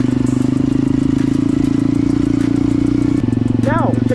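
A motorcycle engine runs loud and close with a steady drone, breaks off briefly at a gear change, then pulls on again at a slightly lower pitch. A voice talks over it.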